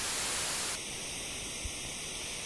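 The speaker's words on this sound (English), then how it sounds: "So as soon as we bring the flanger in, you'll see that we get comb filtering." Steady hiss of white noise that shifts partway through into a hollow, tonal, comb-filtered sound as a flanging effect takes hold.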